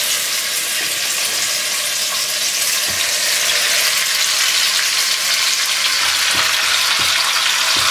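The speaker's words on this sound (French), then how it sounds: "L'huile est chaude, je vais verser mes petits quartiers de tendron, on va les faire bien rissoler, bien colorer" Small pieces of veal tendron frying in hot oil, a loud, dense, continuous sizzle with crackling spatter and a few soft clinks of stirring, no voices.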